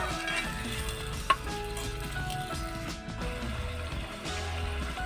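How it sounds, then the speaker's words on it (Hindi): Egg curry frying in a pan, with a steady soft sizzle and occasional stirring clinks from a utensil against the pan, close up and without talk. "अब हमें इसे 10 से 15 मिनट अच्छे से"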